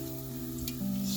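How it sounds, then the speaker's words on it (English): Bacon frying in a pan gives a soft, steady crackling sizzle, quiet and close, with a low steady hum underneath and no talk. "sizzling bacon."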